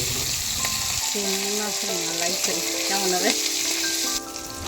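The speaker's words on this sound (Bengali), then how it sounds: "চিংড়ি মাছগুলো খুব বেশি ভাজবেন না বন্ধুরা কারণ বেশি ভাজলে মাছগুলো শক্ত হয়ে যাবে" Prawns frying lightly in oil for patol chingri, a constant close sizzle with some stirring, while a tonal melody plays over it for a few seconds before the sizzle continues alone.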